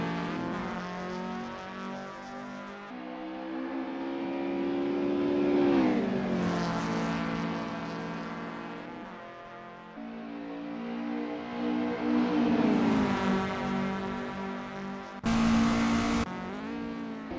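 Lotus Cortina Mk1 race cars on the Snetterton circuit in Assetto Corsa, engines droning loudly with rising and falling revs through gear changes, a harmonic whine building and dropping repeatedly as the cars accelerate and brake.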